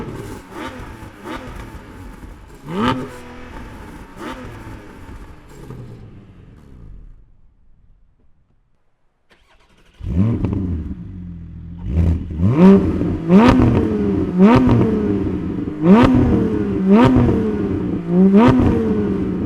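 A Porsche 718 Spyder engine revs repeatedly above 4000 RPM, loud and close, with rhythmic rising throttle blips and sharp release pops, a brief near-silent lull partway through, then a series of even, regularly spaced revs.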